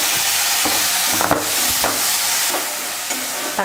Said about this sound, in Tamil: தக்காளியும் நல்லா வதங்கட்டும்.